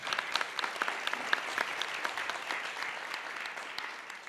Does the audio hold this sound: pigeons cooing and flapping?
no